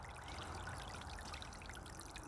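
Water trickles and splashes steadily from an AISITIN solar fountain pump, a faint, continuous stream pouring out close by, with no voices.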